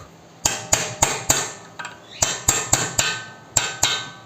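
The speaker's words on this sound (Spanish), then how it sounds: "le vamos a dar los últimos golpes y a ver si quiere salir del todo" Hammer blows knock out the drive shaft of a SEAT Ibiza 6L, about a dozen sharp metallic strikes close by in uneven groups with a brief pause midway, with no talk.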